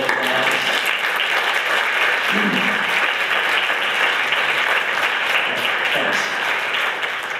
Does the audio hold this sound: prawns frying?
no